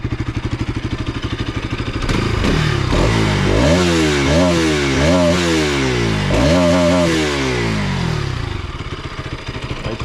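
A Bajaj Pulsar RS200 motorcycle on its original stock exhaust idles steadily, then is revved hard in a series of rising and falling blips, loud and close, before settling back to idle.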